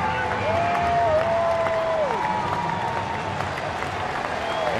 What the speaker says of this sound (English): And a big round of applause for Paulie.